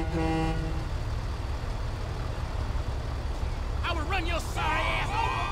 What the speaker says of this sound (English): If you're going to keep honking, just go then, all right?